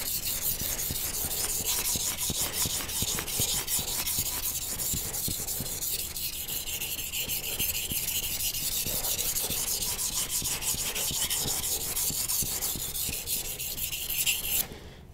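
A knife is stroked steadily across a wet 1K whetstone, giving a continuous soft, slushy scraping with a regular back-and-forth rhythm. The sound is close and even, with no talking.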